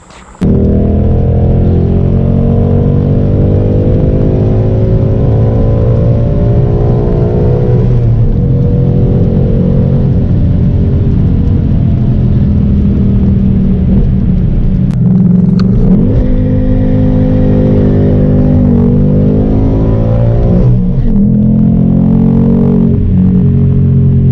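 A Ford Mustang fitted with a C&L Sport axle-back exhaust revving hard and close, a loud deep rumbling drone that swells and falls through several throttle blips, steady and unbroken throughout.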